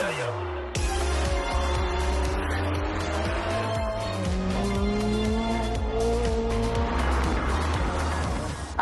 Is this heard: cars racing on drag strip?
yes